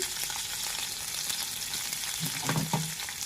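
Cumin seeds and green chilies fry in hot oil for a tempering, giving a steady, close sizzling hiss, with a few spoon scrapes and clinks near the end.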